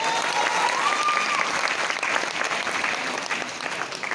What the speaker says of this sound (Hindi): और शिवम पांडे के लिए जोरदार ताली।